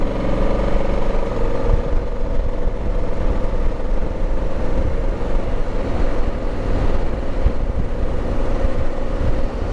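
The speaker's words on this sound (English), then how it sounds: "these tires, at about 40 miles an hour up," Motoz tires on a Africa Twin motorcycle hum along the road at around 40 mph, a constant low rumble and drone mixed with steady wind buffeting, loud and unbroken throughout.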